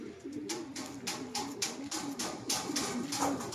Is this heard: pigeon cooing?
yes